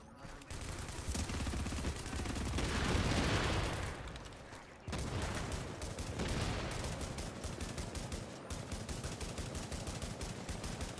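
An MDR rifle fires in a video game in long, dense automatic bursts, loud and continuous, with a brief lull near the middle before the shooting resumes.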